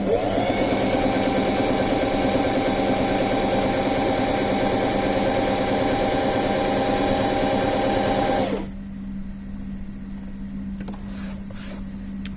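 A bernette b05 sewing machine runs a decorative stitch with a steady, loud mechanical whir and hum for about eight seconds, then stops, leaving a low background hum and a few faint clicks.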